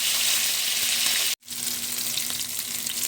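Vegetables for Filipino ginisang gulay sautéing in a hot pan, a loud, steady hiss and crackle of oil that cuts out briefly for a moment, then resumes sizzling close up.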